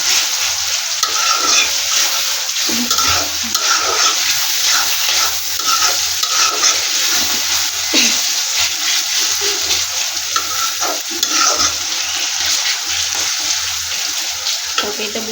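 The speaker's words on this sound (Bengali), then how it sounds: "পেঁয়াজ দিয়ে আর হচ্ছে কী বলে রসুন দিয়ে আমি পেঁয়াজটা ভেজে নিতেছি।" Onion frying with garlic in a pan, a steady sizzle with rhythmic stirring and scraping strokes, close and fairly loud throughout.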